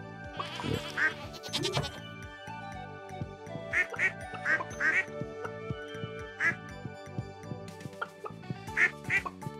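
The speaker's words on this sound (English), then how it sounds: "Ducks." Ducks quacking in the farming video game Stardew Valley, several bursts of quacks scattered through the stretch over a layer of steady game music, fairly close and clear.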